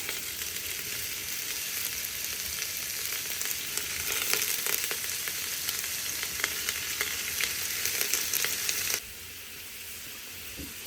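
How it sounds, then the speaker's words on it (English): Onions and tofu fry in a pan with a constant crackling sizzle, dotted with small pops and an occasional utensil tap, close and even, easing noticeably quieter near the end; no speech. "I'm going to go ahead and add the onions and the tofu. And let that cook for, maybe 5 minutes"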